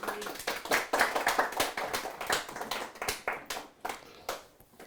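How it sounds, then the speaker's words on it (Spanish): Congregation applause at a church service, a dense burst of many hands clapping that stays steady for several seconds before thinning out toward the end. "Un aplauso al Eterno"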